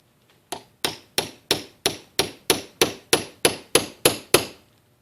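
A hammer strikes a tool used to remove Berdan primers from cartridge cases, twelve sharp metallic whacks at an even pace about one every third of a second, loud and close, each ringing briefly, with no talk.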